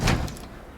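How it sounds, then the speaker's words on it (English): A door opens in a radio drama: one muffled thump at the start, then quiet room noise with no talking. "I'll just see who's at the door."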